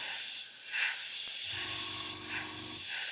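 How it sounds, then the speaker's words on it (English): Air rushes through a Gaahleri GHAC-98D airbrush with the paint cut off, a close, steady hiss that comes in two swells, with a low humming drone rising beneath the middle of it. "paint but leaving the air on."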